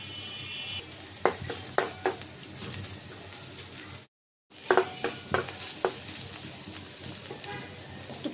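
Chopped onion frying in hot oil in a wok crackles and sizzles up close, with spatula scrapes and taps; a brief gap of silence falls midway before the frying resumes.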